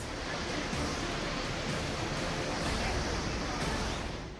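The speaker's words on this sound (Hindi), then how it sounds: "नदी में पानी की रफ्तार और सैलाब की डराने वाली आवाज" Continuous loud roar of a flooded river after heavy monsoon rain, a dense unbroken wash of rushing water that holds steady throughout without pauses.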